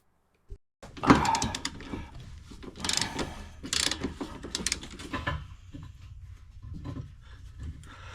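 A ratchet loosening trailer hitch bolts under the rear of a Jeep Cherokee Trailhawk, sounding in close bursts of rapid clicking with metallic clanks and pauses between strokes, nearby and fairly loud, with no voices.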